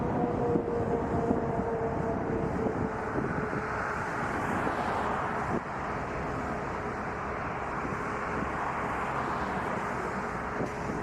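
An Air Canada Boeing 787-9 Dreamliner jet bound for London Heathrow, at Toronto Pearson airport, gives a steady, loud broadband roar that holds for the whole stretch with a faint tonal hum running through it, and no voices.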